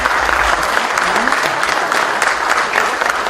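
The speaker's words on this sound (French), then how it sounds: "Donc je tiens à vous lever pour les applaudir." Attendees at an academic conference's awards and closing session in Beni Mellal, Morocco, applaud loudly and continuously, a thick crowd clapping close up with faint voices mixed in.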